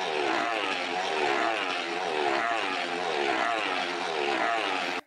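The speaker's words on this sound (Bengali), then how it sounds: "দেখো এই ডুমটার মধ্যে দুটো বাইক গোল হয়ে ঘুরবে।" Two motorcycles circling inside the steel globe of death at a Rolex Circus show: a loud, continuous engine drone whose pitch rises and falls in waves as the bikes loop around, with no talking.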